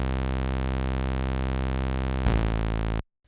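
A droney sawtooth synthesizer bass holds one steady, bright, buzzy note, then shifts into a choppier, pulsing pattern before cutting off abruptly into silence.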